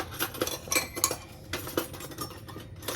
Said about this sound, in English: Add your lids and screw these down hand tight